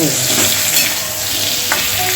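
Ginger paste with turmeric and Kashmiri chilli powder fries in a pan, a steady close hiss of sizzling with a few faint stirring scrapes and no speech.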